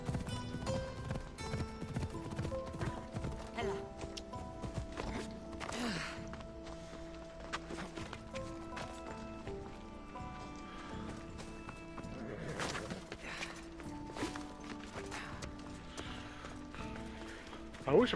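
Horse hooves clip-clopping at a running pace in the Assassin's Creed video game, a rhythmic rapid beat layered with game music and effects, with an occasional snort or whinny and a brief swell of sound near the end.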